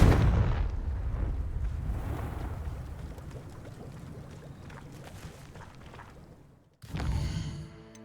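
A booming Confringo fire spell blast from the Hogwarts Legacy video game opens with a heavy low rumble that slowly decays, followed by a second sharp blast near the end.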